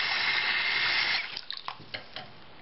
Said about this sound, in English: Add some water here.